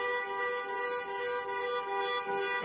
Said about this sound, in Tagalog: Nag-alarm na.